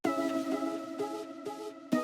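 A synth pluck layer in a future house track made in FL Studio plays short repeating chord stabs, about four evenly spaced notes, bright and upfront with a soft tail, heard alone.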